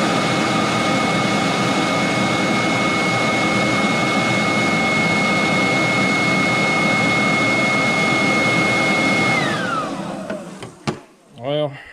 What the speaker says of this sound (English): So, got the blower stuck in there.